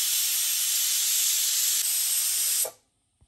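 A pressure cooker of moringa leaf and drumstick dal releasing steam, a loud continuous hissing jet close by that cuts off abruptly after a couple of seconds, followed by near silence.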